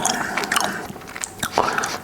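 Gum chewing recorded up close for ASMR, giving a steady run of wet, smacking chews and small crunchy bites with an even rhythm, loud and near, with no talking.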